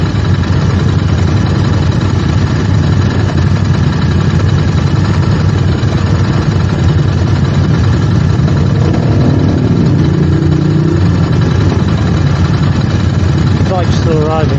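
Motorcycles arriving and idling at an evening bike meet in Bishops Cleeve, among them MV Agustas, with a steady loud engine rumble throughout and a few revs rising near the end, plus people talking in the background.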